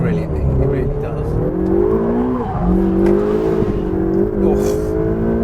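A Ferrari 488 GTB engine accelerates hard. Its loud, close, continuous note climbs steadily through the revs, with brief dips where the gearbox shifts.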